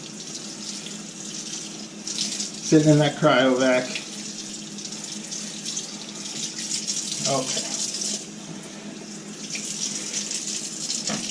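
Cold tap water runs steadily into a sink while pork ribs fresh from cryovac packaging are rinsed, the flow splashing louder for a moment as the meat goes under, with brief talk alongside.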